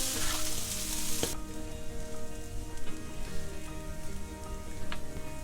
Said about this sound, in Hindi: अब ये पोहा को अच्छे से हम मिक्स कर लेते हैं।